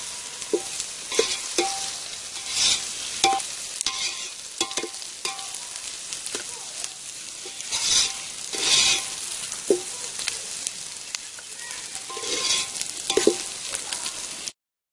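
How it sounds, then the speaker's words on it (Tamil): Onions sautéing in a pan for village-style kuska biryani, a steady close sizzle with repeated scraping and stirring strokes of a spoon against the pan, running continuously without talk. "வெங்காயம் நல்லா வதங்கிடுச்சு அது கலர் மாறின உடனே"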